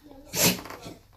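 A single sharp sneeze bursts out near the microphone, brief and breathy, with quiet room noise around it.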